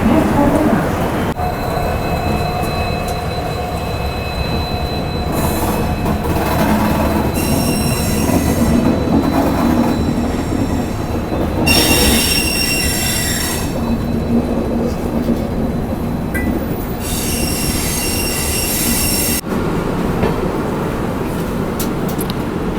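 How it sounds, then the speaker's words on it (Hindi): The Lucknow Mail Express rolls out of New Delhi railway station with steady wheel rumble, rattling carriages and several bursts of high metallic wheel squeal, heard loud and close for over twenty seconds, with faint voices in the background. "डिपार्चर हो चुका है अपना न्यू दिल्ली रेलवे स्टेशन से भाई"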